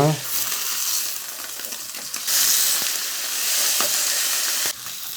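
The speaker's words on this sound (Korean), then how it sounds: "햄은 후라이팬에 소량의 식용유를 넣고 자 햄을 익혀줍니다" Ham sizzles loudly in a frying pan with a little cooking oil, a continuous bright crackle and hiss with small pops, close up and steady throughout.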